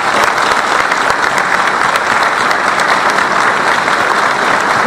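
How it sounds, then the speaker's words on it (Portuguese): Loud, sustained applause from an audience for a minister's speech, a dense, even roar of many hands clapping continuously throughout. "Gostaria de uma salva de palmas para essa primeira fase do ministro"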